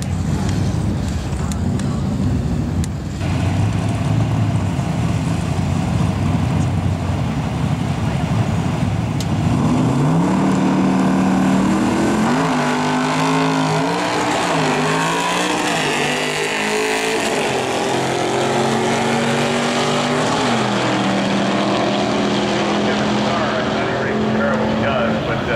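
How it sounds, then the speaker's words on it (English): A Mazda RX-7 drag race car runs at a drag strip, its engine rising through rapid revving sweeps and gear shifts over a loud, busy background, with voices partly audible. "Turns out they're racing the RX-7 this week."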